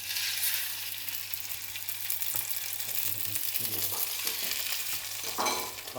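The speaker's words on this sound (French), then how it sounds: "on n'hésite pas, on veut vraiment saisir nos lottes" Monkfish sears in very hot oil in a home kitchen, giving a steady loud sizzle with a low hum underneath and occasional utensil scrapes.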